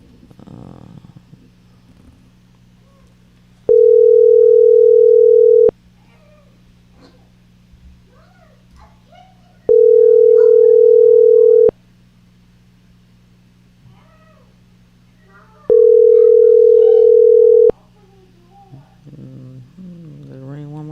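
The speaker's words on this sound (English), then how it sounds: "Let's ring one more time." A telephone ringback tone on an outgoing call during a call-in show: three long, steady, evenly spaced rings with quiet gaps, over a low background hum.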